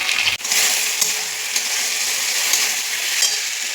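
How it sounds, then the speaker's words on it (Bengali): Slit green chillies and chopped tomato frying in a pan with curry leaves, a loud continuous sizzling hiss that barely breaks, close up. "এবার দিয়ে দেবো তোমার চেরা কাঁচা লঙ্কা আর টমেটো কুচি।"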